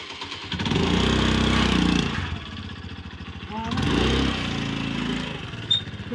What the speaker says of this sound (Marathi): गाडी चालू करतो